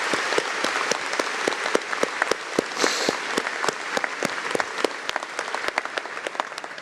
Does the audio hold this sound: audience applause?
yes